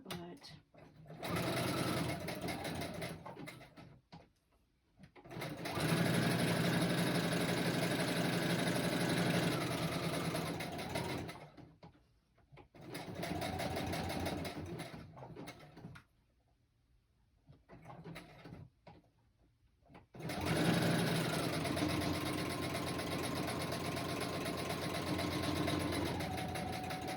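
Sewing machine stitching fabric pieces onto burlap, running in several long bursts of steady mechanical whirring separated by short pauses, close and fairly loud, with a voice speaking briefly in the gaps.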